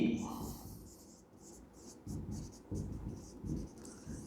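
Writing on a classroom board, soft scratchy strokes coming in short bursts, quiet and close with faint breathy room noise between strokes.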